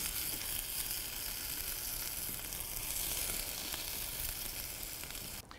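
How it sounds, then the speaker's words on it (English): Potato gnocchi sautéing in a pan over a fireside in the backwoods, giving a steady, close, bright sizzle with faint crackles and no talking, ending with a brief scrape or stir. "Those are gonna go directly into the pan, and I'll saute them until they're golden and crisp."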